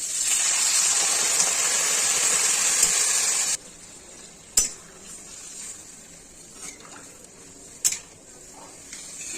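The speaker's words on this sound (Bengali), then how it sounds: "এখন আমি জল দিয়ে দিচ্ছি।" Water splashes into a hot pan of drumstick (sajne) curry, first as a loud, steady steaming hiss. It stops abruptly and gives way to quieter background with a few sharp clatters.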